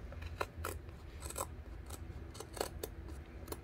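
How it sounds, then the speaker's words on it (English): Small scissors snip repeatedly at a craft wreath, cutting excess trim close to the edge: irregular sharp close-up clicks and rasps in quick bursts, with no talk. "I used the little small small scissors here that you to trim all this off"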